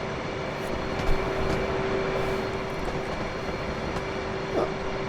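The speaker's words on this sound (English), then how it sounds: "turn off the parking brake and advance the throttle slowly forwards and taxi to the runway" F/A-18 jet taxiing toward the runway in the DCS World flight simulator, a steady loud engine roar with a sustained whine holding evenly throughout, no talk.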